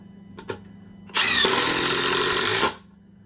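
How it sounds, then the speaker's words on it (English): A DeWalt 20-volt impact driver sinks a deck screw into solid wood in one loud, steady burst of rapid hammering and whirring lasting about a second and a half, after a couple of faint clicks. "now, for giggles, we'll use their big 20-volt impact driver"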